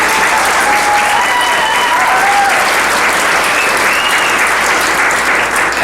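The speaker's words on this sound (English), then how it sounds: "would you please join me in giving her a round of applause" Loud, dense audience applause at a board of directors installation event, steady clapping from a large crowd filling the whole stretch, with faint cheering whistles near the start.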